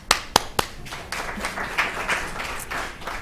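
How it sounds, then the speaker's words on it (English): An audience at a panel event gives a few sharp, separate claps, then breaks into a brief spread of scattered clapping across the room, moderately loud and close. "give a clap"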